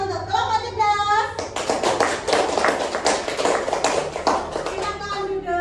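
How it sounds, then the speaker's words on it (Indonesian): A class of fourth-grade students claps for a presenting group, a dense burst of applause starting about a second and a half in and running to the end, with children's voices and speech layered over it. "Beri tepuk tangan untuk kelompok cerdas."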